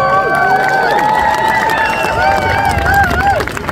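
A street festival crowd on the streets of the Edinburgh Fringe Festival cheering, with whoops, shouts and excited hollering rising and falling over a loud, steady babble of voices.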